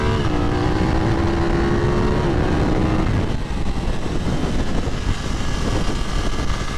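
A BMW F900 R cup race bike engine running on a track, a loud sustained roar with a steady tone that shifts midway into a rougher, broader drone, no talking.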